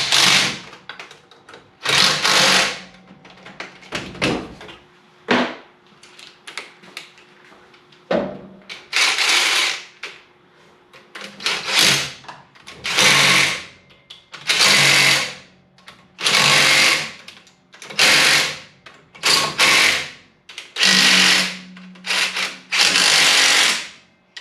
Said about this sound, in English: Alright, and we're going to tighten all these up.